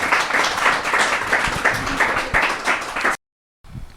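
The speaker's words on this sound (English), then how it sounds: "So maybe a round of applause for our panel" An audience at a live panel discussion about the River Avon and its waters applauds the panel, a steady, fairly close round of clapping lasting about three seconds before cutting to near silence.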